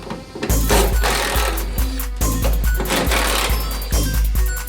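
A powered ratchet or impact tool backs off 12mm bolts on the radiator support of a 2000–2005 Mitsubishi Eclipse, giving loud, close, continuous mechanical whirring and rattling with repeated bursts, no speech.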